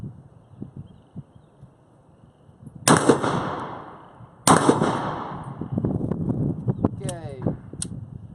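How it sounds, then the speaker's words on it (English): Two sharp, loud reports of 22 TCM rounds hitting a CTS Competition Target Systems steel target, each followed by a ringing decay, then a quick burst of smaller clatter near the end, all outdoors with quiet ambience. "we're gonna shoot some more of this 22 TCM"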